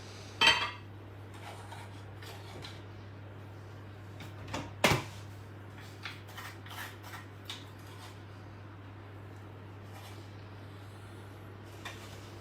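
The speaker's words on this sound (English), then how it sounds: "I'm now mixing the flour together." Flour and salt being mixed in a bowl, with a few sharp clinks of utensils against the bowl and light scattered taps over a low steady hum, fairly faint.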